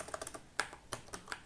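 Keys tap on a computer keyboard as a file name is typed, a short, close run of light, irregular clicks.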